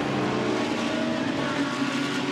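GT race cars stream out of the pit lane at the 24 Hours of Spa, a steady dense engine roar with layered droning tones holding at an even, loud level throughout.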